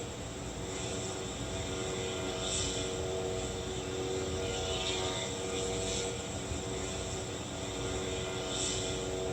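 A drone flies near soldiers, heard as a steady broadband airborne hum with a constant drone, faint wind-like hiss and a few brief swells, continuous throughout with no voices.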